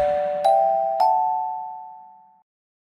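A notification bell sound effect for a subscribe reminder rings out alone as two clear chime strikes in quick succession, the second tone ringing on and slowly fading to silence.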